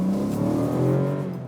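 A small car with a 1-litre three-cylinder turbo engine accelerating hard, a close, loud rising engine drone with a steady buzzy tone through the brief pull.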